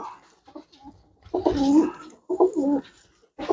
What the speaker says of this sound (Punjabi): ਹੁਣ ਆਪਾਂ ਤੁਹਾਨੂੰ ਦਿਖਾਉਣੇ ਤੀਜਾ ਕਬੂਤਰ